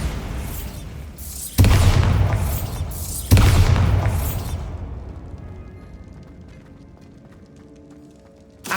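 Bombarda blasting spell in Hogwarts Legacy, with two sudden loud booming explosions followed by a long rumbling decay that fades to near silence, then a final sharp hit at the end.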